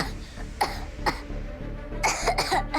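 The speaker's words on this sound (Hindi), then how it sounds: "खांसी भी बहुत आ रही है" A sick child coughing repeatedly at night, several harsh close coughs in irregular bursts, with throat-clearing sounds between them.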